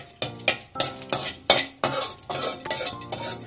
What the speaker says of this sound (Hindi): दो इलायची डाल रहे हैं, इसको थोड़ा भूनते हैं इसके साथ